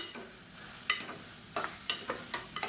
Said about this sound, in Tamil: இப்போ பாருங்கள் முள்ளங்கி நல்லா வதங்கிடுச்சு